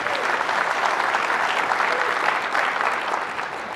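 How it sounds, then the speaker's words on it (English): A large tech-conference audience bursts into loud, dense applause, a continuous wash of many hands clapping close and full for several seconds, a few faint voices mixed in. "So everybody, a round of applause for John and his baby."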